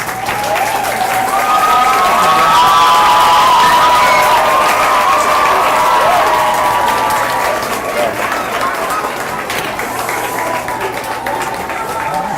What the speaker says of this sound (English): I need everybody to clap now